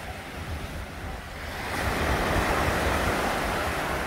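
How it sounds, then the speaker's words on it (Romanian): Mediterranean Sea surf washing onto a clean sandy beach by the Antique Roman Palace, a steady broadband wash that swells louder partway through, with some wind noise on the microphone and no talk. "pe plaja de pe malul Mării Mediterane"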